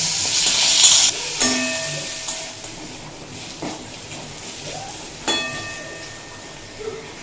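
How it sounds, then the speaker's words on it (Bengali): Potatoes with ginger, garlic and salt fry in a pan, a loud sizzle at first that settles to a softer hiss, broken by a few ringing metallic scrapes and clinks of stirring. "দিয়ে আবারও খুব ভালোভাবে ভেজে কষিয়ে নেব যাতে আলুও ভাজা হয়ে যায়"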